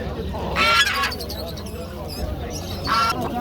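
A duck at a poultry market gives two loud, harsh honking quacks about two seconds apart, heard close by while people talk nearby.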